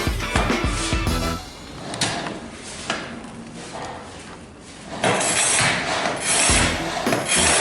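A cutter blade scores a large kitchen tile with long, loud, close scraping strokes, a rough rasping grind that fades mid-clip and then resumes more strongly.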